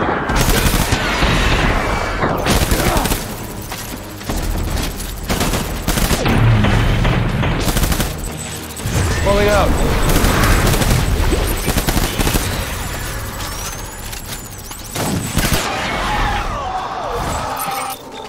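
Gunfire in the video game Death Stranding comes in loud, dense fusillades of rapid shots and booms with shattering impacts. There are brief lulls between volleys and faint voices underneath.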